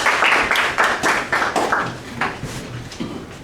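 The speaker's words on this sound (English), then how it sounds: "Let's give him a big round of applause." Scattered applause from a small audience at a Toastmasters club meeting, a handful of close, uneven claps in loose rhythm that gradually thin out over a few seconds.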